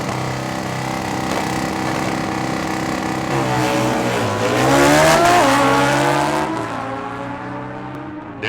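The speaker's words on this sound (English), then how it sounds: "Dan Schneider, you can hear the Harley grumbling its way down there, and that screaming Kawasaki is going to grumble right on by" Harley and Kawasaki motorcycles in a drag race, loud engine roar holding steady then rising sharply in pitch as they accelerate past, before cutting away abruptly near the end.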